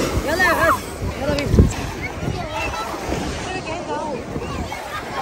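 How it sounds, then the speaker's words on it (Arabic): Surf rolls and washes along the beach on a windy summer seaside afternoon, with wind buffeting the mic and people talking over it throughout. "طبعا احنا هنا البحر"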